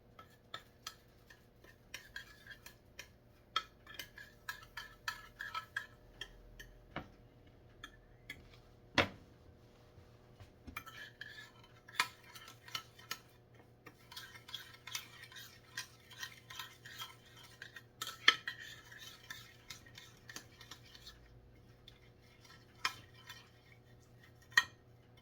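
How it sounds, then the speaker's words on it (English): A utensil stirring melted butter in a bowl for a banana upside-down cake, making faint, steady clinks and scrapes in a quick, uneven rhythm with a few sharper taps against the bowl. "the butter is melted, so you're supposed to mix this together"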